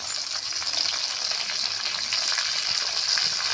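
Beans and potatoes fry in a pan with onion and green chilies, a steady close sizzle with faint scraping and crackle running the whole time, no voices.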